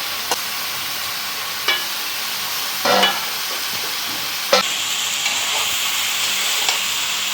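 Chopped taro dropped into a hot pan of spiced oil, with sharp sizzling bursts and the scrape of stirring over a steady frying hiss, up close and with no voices.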